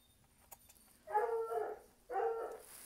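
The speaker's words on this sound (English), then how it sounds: "I apologize for Coco barking in the background." A dog barks in the background during a bag-sewing session, two separate bursts of barking, each lasting close to a second, at moderate level in a quiet room with no talking.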